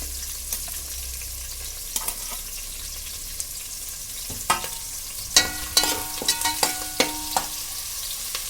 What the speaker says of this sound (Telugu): ఇదిగోండి తర్వాత ఉల్లిపాయలు వేసేస్తున్నాను.